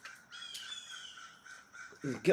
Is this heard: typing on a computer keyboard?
no